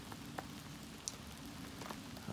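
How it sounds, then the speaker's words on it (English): Rain falls on a truck topper canopy, a faint soft patter with a few sharper scattered drop taps over a quiet background. "it's raining"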